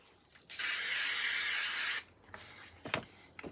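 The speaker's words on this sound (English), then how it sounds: "I'm going to pop both pieces into a spray box and I give them a spray." Aerosol spray on kit pieces inside a spray box, one continuous hissing burst of about a second and a half, close and fairly loud, followed by faint handling rustles and taps.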